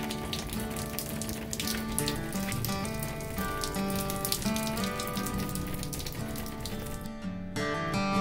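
Steady rain patters densely on a hard surface, continuous and fairly loud, with dripping water and no voices.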